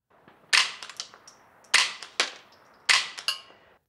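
A .22 rimfire rifle fitted with a Rex Silentium MG22 suppressor fires three spaced shots, each a sharp, fairly quiet crack trailed by brief echoes, with no talking.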